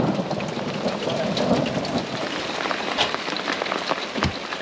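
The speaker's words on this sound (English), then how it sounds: "this was building into an absolute cracker of a storm. Might even find a bit of hail in it." A heavy thunderstorm with rain and a little hail at Bathurst: steady, loud, dense rain roar with scattered hard impacts and low thunder rumbling underneath, continuous throughout.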